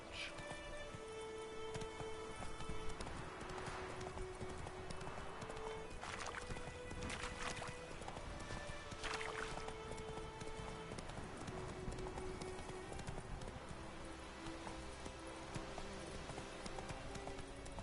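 Roach the horse's hooves clip-clop at a steady gallop in The Witcher 3, a continuous rhythmic patter layered over game music and ambient tones throughout, fairly close and even in level.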